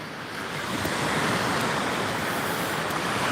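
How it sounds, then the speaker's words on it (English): Sea waves wash onto the beach at Blyth, Northumberland, a loud, steady, broad rush of surf that swells slightly and holds, with no voices present. "it's nice to hear the sea"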